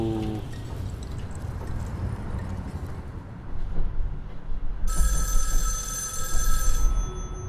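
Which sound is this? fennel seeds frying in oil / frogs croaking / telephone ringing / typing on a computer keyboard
telephone ringing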